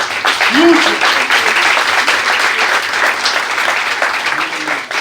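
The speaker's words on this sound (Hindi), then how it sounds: "41 ईयर्स के लिए मैडम के लिए एक बार जोरदार तालियां" Loud, sustained applause fills the room at a retirement party for a long-serving administrative officer, dense clapping from a close crowd with a voice briefly rising over it near the start.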